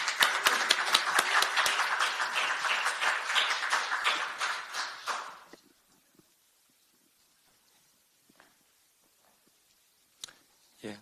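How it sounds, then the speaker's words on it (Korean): Audience at a talk concert gives applause to welcome a lawmaker to speak, a dense burst of clapping that lasts about five seconds, then quiet room tone with a few faint taps and noises. "박수로 모시겠습니다."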